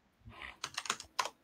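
Rapid, forceful typing on a computer keyboard, a burst of several loud clustered key strikes followed by a final hard hit, heard alone with no talking.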